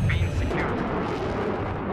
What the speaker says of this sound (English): So just engaging here with the cannon.